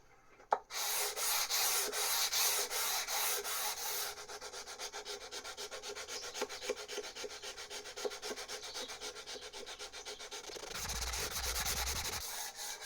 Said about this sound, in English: I'm going to start with my 150 grit, head down to 1000 grit, and then we can finish it off.